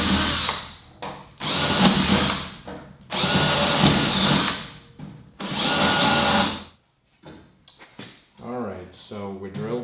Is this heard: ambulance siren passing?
no